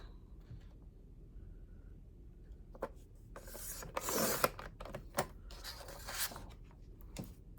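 A paper trimmer slices a strip of parakeet cardstock: after soft taps and shuffling, one brisk scraping cut swells and fades near the middle, followed by a few light clicks and rubs, close and fairly quiet.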